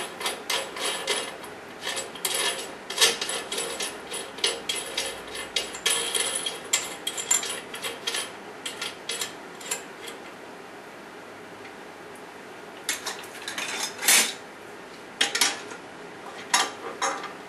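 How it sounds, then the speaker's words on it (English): A washer, lock washer and nut are fitted onto a bolt while building a wire wheel table, giving close, light metallic clicks and ticks in irregular clusters with quieter pauses between. "Put a washer, a lock washer, and a nut on the bottom."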